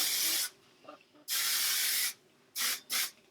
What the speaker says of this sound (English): we're gonna go in with the hairspray